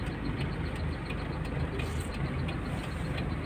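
Isuzu turbo diesel truck engine running steadily under load while climbing in third gear, a dense continuous low rumble with even drone and no pauses, moderately loud and close, with no talking.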